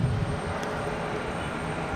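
Endeavor Embraer E175 regional jet arriving from LaGuardia at Raleigh-Durham, a steady broadband engine roar with low rumble, moderately loud and slightly distant across two seconds, with no voices.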